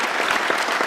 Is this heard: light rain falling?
no